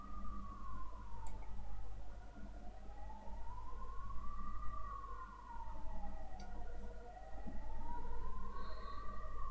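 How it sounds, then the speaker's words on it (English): Ambulance sirens wail steadily outside, the tone sliding slowly up and down in long sweeps over a constant low rumble of traffic, moderately distant but persistent throughout. "I apologize for the ambulances."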